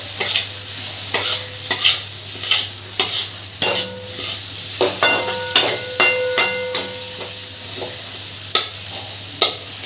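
Onions frying in hot mustard oil while being stirred, with a continuous loud sizzle and regular metallic scrapes and clanks of a spatula against the pan, close up and without talk.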